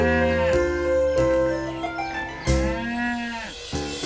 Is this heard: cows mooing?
yes